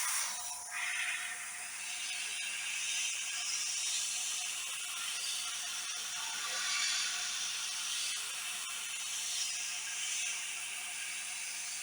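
An airbrush sprays thinned white paint onto the underside of a carved cypress wood swamp rat fishing lure, giving a steady, close, continuous airy hiss with no talking.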